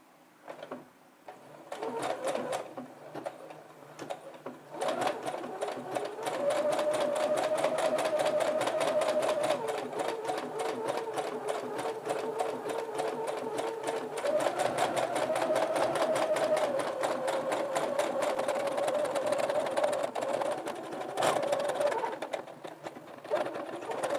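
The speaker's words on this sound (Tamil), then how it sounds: "இப்போ மிஷினை ஸ்டார்ட் பண்ணலாம்." A sewing machine fitted with a pico foot stitches fabric in a fast, steady, close-up mechanical whir with a rapid needle rhythm, running almost the whole time after a brief start-up.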